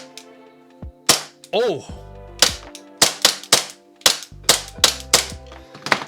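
Baton Staccato CO2 airsoft pistol fired with an empty magazine, a string of sharp, loud snapping shots in an irregular rhythm with brief mechanical clacks between them, plus a short spoken exclamation.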